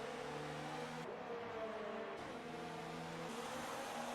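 Formula 1 cars racing in F1 2019 at the Japan circuit, high-pitched engines whining and shifting through gears as cars run close together, with overlapping revs rising and falling, moderately loud and without talk.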